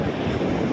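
Sea waves wash steadily at the shore near Somnath in the evening, a loud continuous roar with wind buffeting the microphone and no talking.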